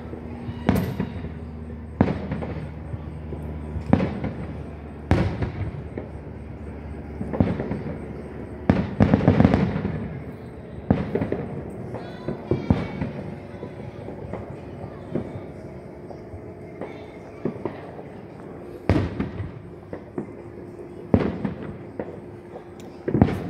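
Fourth of July fireworks burst one after another at irregular intervals, each sharp bang followed by a rumbling tail, with occasional voices in the background between blasts.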